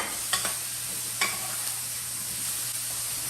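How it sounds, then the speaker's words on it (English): Onions and peppers sizzling in hot oil, a steady close hiss throughout with a few sharp clicks from stirring near the start, alone without talk. "now we're gonna go ahead and put our onions and peppers in. Love that sound, nice, huh?"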